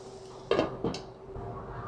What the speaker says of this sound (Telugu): సో దీన్ని మళ్ళీ మూత పెట్టేద్దాం మనం.